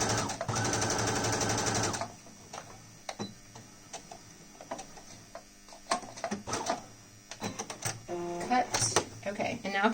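Sewing machine back-stitching a cloth face mask, a loud rapid mechanical rattle for about two seconds, then stopping, followed by quieter clicks and handling noises while a person talks.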